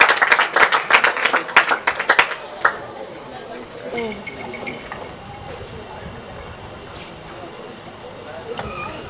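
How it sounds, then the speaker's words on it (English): Audience applause at a youth inventors' expo in Ghana, a burst of sharp, close hand claps in the first few seconds that fades out, leaving murmuring voices and room noise. "let's give them a round of applause"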